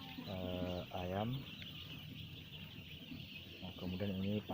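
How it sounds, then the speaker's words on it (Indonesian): Broiler chickens clucking inside a coop, with a few loud, drawn-out calls that rise and fall over a steady background hum of the flock. "Ayam broiler"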